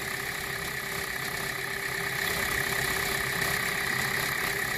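A 2017 Hyundai Elantra 2.0 engine idles smoothly and quietly after a serpentine belt replacement, a steady close hum with faint, even mechanical ticking and no other sounds.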